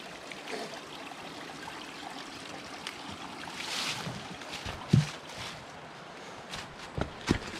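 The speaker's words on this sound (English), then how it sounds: "Not that there's not a huge river right over there" Hiwassee River flowing nearby on a forest trail, a soft continuous rush of water in the background with a few close footsteps and scuffs breaking through.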